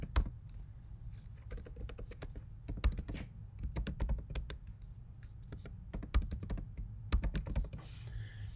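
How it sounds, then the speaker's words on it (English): Rapid keystrokes on a computer keyboard as a login code is entered, with irregular bursts of close, crisp clicks and short pauses over a low background hum. "you're going to type in the code and hit continue"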